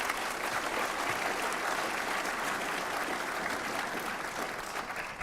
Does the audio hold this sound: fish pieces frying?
no